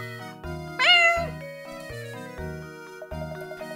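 A cat in the video game Professor Layton and the Curious Village gives one clear, rising meow over a light, plucky background melody that keeps playing after it fades.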